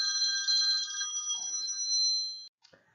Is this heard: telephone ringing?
yes